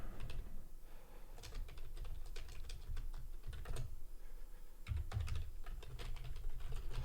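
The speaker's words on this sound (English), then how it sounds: "If you do hear typing, that's just me making alerts" Rapid, irregular clicking of keys on a computer keyboard, close and steady with brief pauses, no voices.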